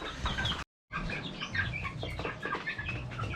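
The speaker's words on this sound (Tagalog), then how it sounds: "pinapakain na natin yung mga 1 month old na sisiw natin" One-month-old chicks cheep and chirp busily in a dense chorus while being fed on a poultry farm, with a brief silent gap early on, and no talking.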